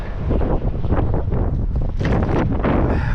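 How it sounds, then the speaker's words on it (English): Strong wind buffets the microphone outdoors on a frozen, cold winter day of snow plowing, a loud continuous roaring rumble with gusting surges throughout and no talking. "Wind is ripping."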